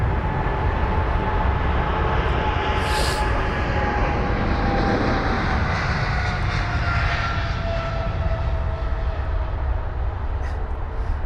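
An Emirates Cargo Boeing 777 taking off at London Heathrow, with a loud, continuous jet engine roar that fills the air and holds steady throughout.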